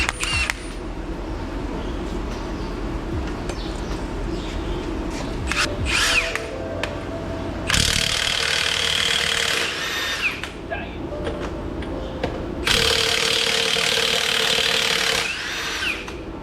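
A Milwaukee 1/2 inch impact gun removes lug nuts from a truck tire, giving bursts of loud, harsh rattling hammering a few seconds long, separated by clicks, clatter and shop noise, with some talk in between.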